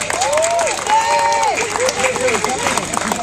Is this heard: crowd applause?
yes